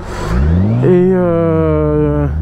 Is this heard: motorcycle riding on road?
yes